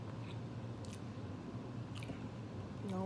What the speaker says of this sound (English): Gotta make sure I chew it all up